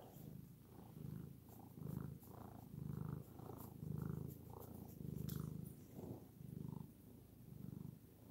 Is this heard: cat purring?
yes